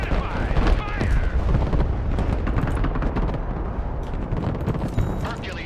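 Weapons team opening fire in the Broken Arrow video game: a steady barrage of gunshots and booming blasts, loud and continuous, with voices briefly heard over the combat.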